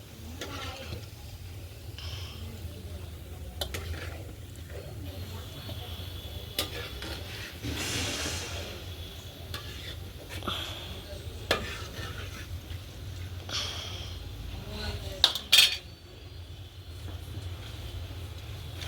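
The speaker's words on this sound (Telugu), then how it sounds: "ఉల్లిపాయలు ఫ్రై అయ్యాయి ఫ్రెండ్స్. చూడండి ఫ్రై బాగానే అయ్యాయి." Onions fry in hot oil for dum biryani on a wood-fired stove, a steady low sizzle with intermittent scraping and stirring of a spoon against the pan and a few sharp metallic knocks, no talk.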